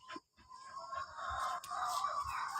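Laying hens cluck and murmur close by in a backyard flock, a short burst of throaty, rising calls with a brief pause near the start, no talk over them.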